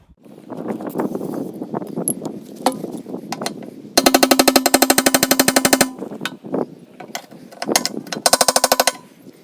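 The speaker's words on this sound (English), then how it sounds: "So I've already tried hitting it with a chisel, and you're supposed to hit on these tabs right there" A chisel is hammered against the snap ring of a gas tank sending unit on a 1976 Ford F150, giving sharp metallic strikes in fast bursts of rapid repeated blows, loud and close, with pauses between.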